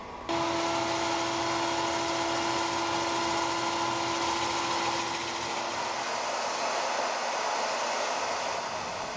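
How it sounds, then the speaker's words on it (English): A wooden turned bowl is sanded on a lathe, making a steady, loud whining hum with a continuous abrasive hiss that holds evenly for several seconds. "I'm going to go ahead and sand it"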